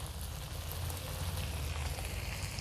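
Onion cubes and green chillies fry with beef and butter in a pan, giving a soft, steady sizzle with a continuous crackling hiss and no voices.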